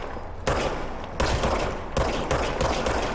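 Bursts of rapid automatic gunfire from the service weapon in the game Control, loud and close, several sustained volleys separated by short breaks.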